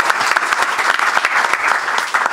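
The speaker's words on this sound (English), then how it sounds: "Let's give Ted a round of applause." Audience applause at a press conference announcing Old Dominion joining the Sun Belt Conference, steady clapping from a crowd filling the room at moderate loudness with no talk over it.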